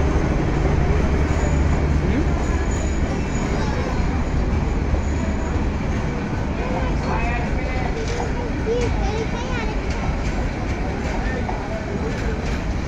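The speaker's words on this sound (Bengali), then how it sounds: "এই ট্রেনটা যে থামলো না।" A train rolls steadily through a station without stopping, a loud, continuous rumble of wheels on rails with faint squeals and clatter, and people talk nearby throughout.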